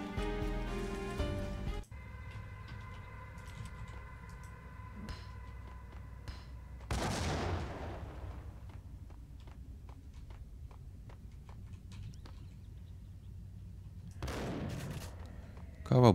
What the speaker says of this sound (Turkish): İki Uzi ya. Dünyaları tarıyorsun onda da.